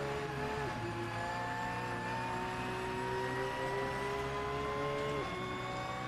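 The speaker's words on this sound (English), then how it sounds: "if this doesn't sound like your 2016 Porsche 911 GT3 R, it's because it's a Fonseca sound mod" Racing engine of a 2016 Porsche 911 GT3 R with a Fonseca sound mod in a racing video game, a steady high-revving drone with whining harmonics and gear shifts near 0.7 and 5.2 seconds, continuous and moderately loud.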